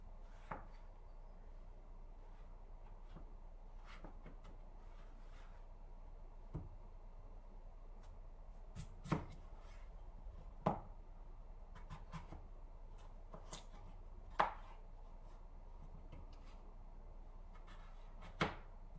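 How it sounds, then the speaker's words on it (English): A knife cutting potatoes into batons on a board for curry, a sparse series of sharp, quiet knocks scattered irregularly over a faint background hum. "So we're going to cut these potatoes into batons as well"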